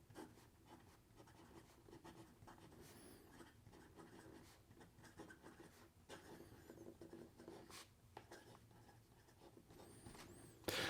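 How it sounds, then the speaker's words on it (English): A Visconti Dual Touch fountain pen with an 18 karat gold nib scratches faintly across paper in a quiet room, soft continuous strokes with small bumps and pauses as the writing goes on. "And here we go with the rest of the writing sample."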